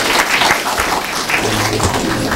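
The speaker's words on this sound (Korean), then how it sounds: "박수 한번 쳐주세요." Audience applause at a live author talk event, a dense steady patter of many hands clapping close and loud throughout with no voices over it.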